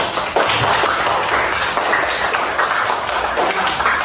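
Applause for a group in a classroom, dense continuous clapping from many hands, loud and sustained throughout.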